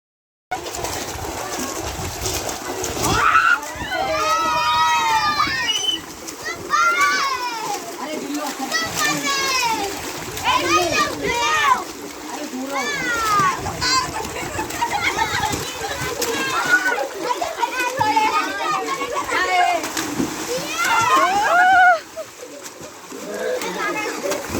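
Children splashing water while bathing outdoors, with steady splashing and sloshing throughout, mixed with chattering children's voices and bird calls nearby.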